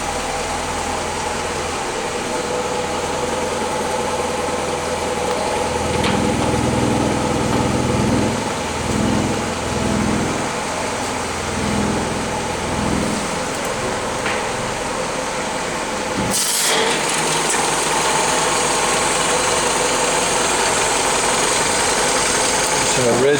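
An old Willys Jeep with its original 134 cubic inch, 60 horsepower L-head flathead engine idles steadily after a cold start, a continuous low rumble with a brief clunk partway through.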